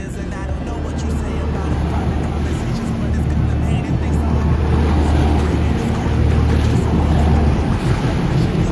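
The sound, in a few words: Sea-Doo Spark Trixx jet ski engine at full throttle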